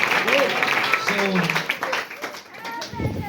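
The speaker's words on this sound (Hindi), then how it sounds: "यीशु मसीह का ताली बजाएं यीशु के लिए" A church congregation claps for Jesus during a Hindi sermon, a burst of applause fading gradually while voices carry over the clapping.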